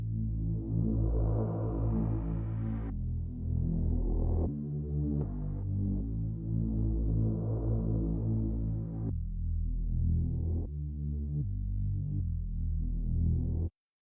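Jungle-style Reese bass synth patch built in Serum, droning in sustained detuned notes with a slow LFO sweeping the filter cutoff, so the tone swells and darkens in gentle cycles across several held phrases, loud and alone.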